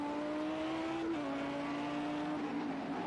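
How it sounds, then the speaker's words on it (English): A heavy, low-pitched Mercedes race car engine in Project CARS 2 drones steadily at Fuji Speedway, its pitch dipping briefly as it shifts and then holding, with no talk. "he has a very heavy sounding car in front of him, so that's probably the Mercedes of Jamie"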